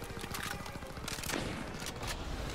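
Gunfire in the Call of Duty WWII video game: a dense, rapid burst of shots early on, then scattered, fainter reports over continuous battle noise, with no talking.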